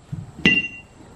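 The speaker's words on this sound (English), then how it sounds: "This is a pitching chisel, and this is just a chisel." A single sharp metallic strike of a pitching chisel hit against stone, a bright ringing clink that decays over about half a second, close and alone in a quiet setting.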